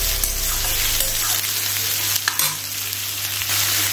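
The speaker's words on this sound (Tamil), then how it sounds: "இது கொஞ்சம் வதங்கட்டும் ஃப்ரெண்ட்ஸ்." Sautéing for tomato kulambu, with ingredients sizzling steadily in a hot pan, loud and close, plus a few clinks of a spoon against the metal.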